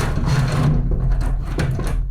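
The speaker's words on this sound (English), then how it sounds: "So let's slide the power supply into place." A power supply slides into an NZXT PC case during a 3rd Gen Ryzen gaming PC build, giving a close, steady scraping and rubbing of metal on the case that runs throughout with small knocks.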